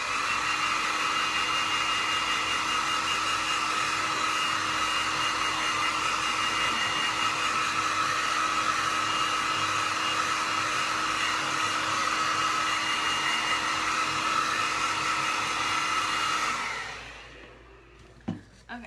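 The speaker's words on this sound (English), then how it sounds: "I'm gonna hit this with the hairdryer real quick" A hairdryer blows steadily to dry paint on a hand-painted leopard-print Santa ornament, a constant close whooshing hum that runs for most of the stretch before being switched off near the end.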